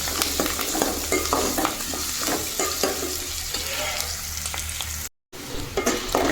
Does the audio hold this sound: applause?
no